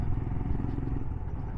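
A Royal Enfield Himalayan motorcycle riding near Tabernas, a steady close engine drone with rhythmic low-end thrum and light mechanical clatter throughout, no voices.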